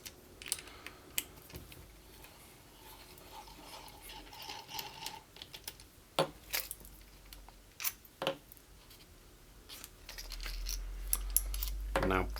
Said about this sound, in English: Remove the two screws in the bottom of the pops.